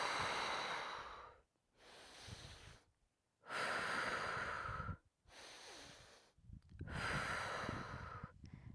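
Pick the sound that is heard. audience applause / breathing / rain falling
breathing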